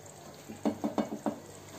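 A spoon stirring egg masala gravy in a pan, a few soft quick scraping strokes in a short rhythmic run, close and quiet, with no talking.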